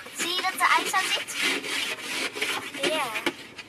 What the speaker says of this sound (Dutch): gelukkig was het makkelijk krabben